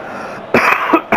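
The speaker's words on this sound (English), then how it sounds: "Apologies for the cough" Two or three short, harsh coughs from a football commentator burst out up close over a steady background hum, during the 2018 World Cup match Egypt v. Uruguay.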